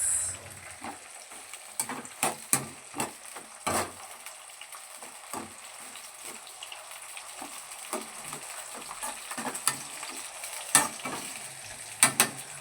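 Half a kilo of bitter gourd pieces frying in a pan, a low bubbling sizzle punctuated by frequent spatula scrapes and knocks as they are turned, close and clear with no talk.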